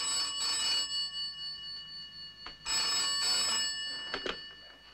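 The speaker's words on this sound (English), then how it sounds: "Answer the phone, Jeff." An old-fashioned telephone bell rings in two bursts, a steady electric trill heard clearly indoors with a brief pause between rings.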